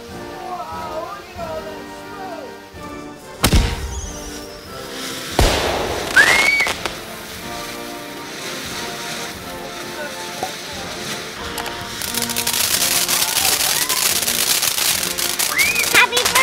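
Fourth of July fireworks go off outdoors: sharp loud bangs, whistling rockets rising, and a dense crackling barrage building toward the end, with voices faintly in the background.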